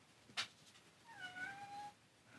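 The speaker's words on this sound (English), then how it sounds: "I'm gonna have to pause and let my cat out because this meowing is not gonna stop." A persistent indoor cat meows, a short sharp cry followed by a longer drawn-out meow, faint and close in a quiet room with no talking.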